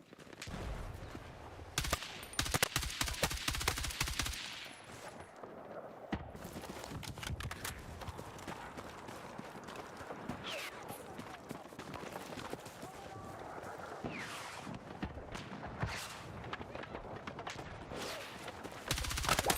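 Rapid gunfire bursts and machine-gun fire crackle through a video game firefight, loud volleys in the first seconds easing into steady scattered shooting, with a voice talking over the action.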